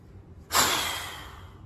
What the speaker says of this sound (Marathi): श्वास जोरात बाहेर फेकायचा